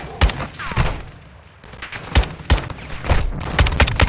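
Single gunshots from a semi-automatic weapon in Call of Duty: Modern Warfare II, loud and close, fired in an irregular run of sharp cracks with brief pauses in between.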